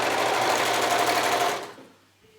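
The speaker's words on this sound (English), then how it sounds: "flip it back around, and sew over those same stitches once more." A sewing machine runs fast and steady, stitching back over the same stitches on a knit neck binding, then stops abruptly and leaves near silence.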